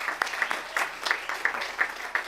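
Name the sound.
applause for the girls varsity basketball team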